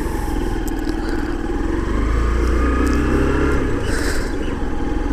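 A Hero Hunk 150R motorcycle engine running steadily in second gear, a close, loud, continuous throbbing drone with slight rises in pitch, no talking over it.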